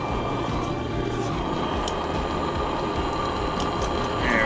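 Weil McLain gas boiler firing up after the pilot is lit, a steady loud roaring rumble of the burner with faint mechanical ticks, close by and continuous.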